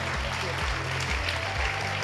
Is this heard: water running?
no